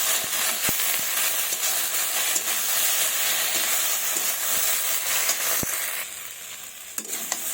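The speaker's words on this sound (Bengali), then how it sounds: "আমি অল্প একটু সরিষার তেল দেবো। ব্যাস, এবার আমি ভালোভাবে কষিয়ে নেব।" Spice paste frying in mustard oil as it is stirred for a fish curry, a continuous loud sizzle with occasional spoon taps against the pan, close and without speech.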